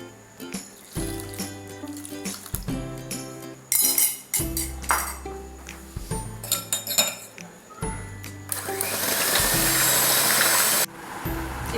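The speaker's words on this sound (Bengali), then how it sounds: "এখন প্রথমে সুগার আর কলা আর এই দুধটা একটু বিট করে নিই" Sugar, banana and milk soured with vinegar are prepared for custard muffins with clinks of spoons and glass bowls, followed by a few seconds of steady electric mixer whirring.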